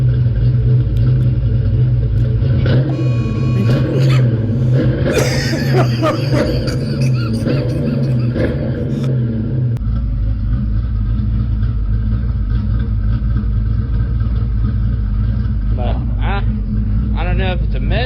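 A 1989 Ford Mustang Foxbody V8 idles with a steady, rumbling, slightly uneven note that stays loud throughout, with a few sharp clanks and people talking over it.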